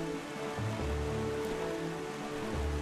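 In-game rainfall from The Legend of Zelda: The Wind Waker, a constant dense patter with background music and low rumbles beneath it, with no voices.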